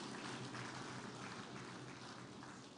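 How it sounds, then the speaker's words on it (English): An audience at a live dialogue event in Akwa Ibom applauds, a faint, steady wash of clapping heard from a distance with no talk over it. "Can we make the applause louder"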